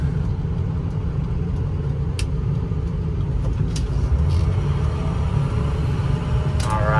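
A 2007 Ford F-250 Lariat 4WD with a 6.0L Powerstroke diesel accelerates up a highway on-ramp, heard from inside as a loud, steady low engine rumble and drone.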